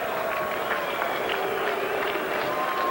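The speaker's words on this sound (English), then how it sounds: "Crowd showing some disapproval." A boxing arena crowd at Floyd Mayweather's pro fight voices disapproval, a steady, rumbling wash of murmuring and booing from many people that holds evenly throughout.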